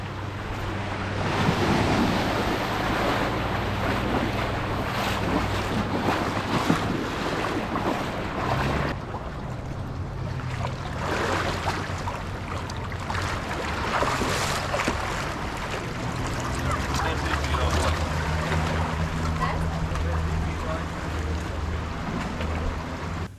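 Thai long-tail boat running across the sea, a continuous rushing of water and wind over a low engine drone, waves slapping steadily throughout, fairly loud, no talking.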